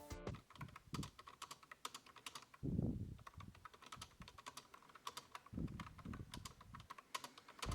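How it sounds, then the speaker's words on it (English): Rapid clattering keystrokes on a cheap $7 computer keyboard, steady and close, with a few heavier thumps mixed into the quick typing rhythm. "for those of you wondering what it sounds like, here's a quick typing test"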